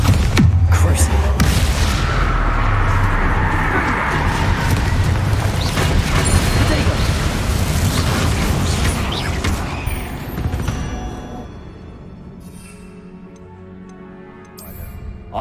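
Spells in Hogwarts Legacy strike and explode in a dense, loud barrage of booms, crackles and ticking impacts that gradually thins out and quiets toward the end.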